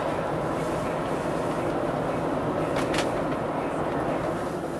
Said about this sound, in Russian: 1200 оборотов ползем в маленькую горку.